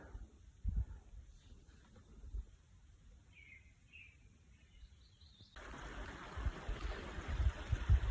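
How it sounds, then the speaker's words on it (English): A small snowmelt stream flows along a mountain trail, a faint trickling wash with a couple of brief bird chirps, then louder, closer rushing water near the end. "Even the trail has become a little stream."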